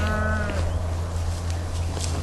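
A young cow's calf moos once in a loud, close, drawn-out call that fades after about half a second, leaving steady farm ambience and faint clatter.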